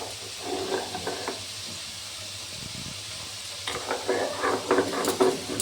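A stone pestle grinding spice paste on a flat sil-nora grinding stone makes rhythmic rasping, scraping strokes, quiet at first and then louder in repeated bursts toward the end.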